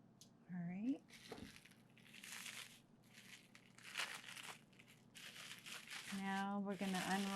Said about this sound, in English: Now we're going to unwrap our cheese ball.